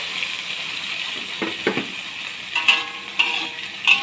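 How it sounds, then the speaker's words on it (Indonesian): Blended onion and garlic fry in a pan while being stirred, a steady soft sizzle broken by several scraping clinks of the spoon against the pan, close and without talk. "Kita kacau sehingga naik bau."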